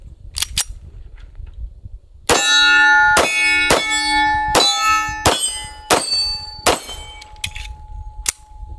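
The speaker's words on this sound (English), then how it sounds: "let's dump a mag through it real quickly" A budget 1911 pistol fires a full magazine in a quick string of about eight loud, sharp shots with metallic ringing, spaced under a second apart. Two fainter clicks come before the string.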